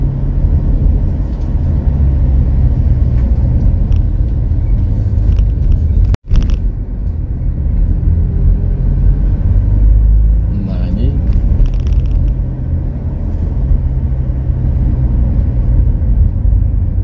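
A car drives along a long, winding rural road between Lumajang and Probolinggo in the late afternoon, a steady close engine and road rumble running throughout, with one brief sharp dropout partway through and a voice talking over it.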